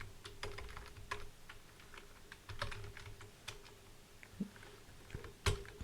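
Steady computer keyboard typing while Java code is entered in an editor, quiet, close clicks and taps in uneven bursts with short pauses between, no voices.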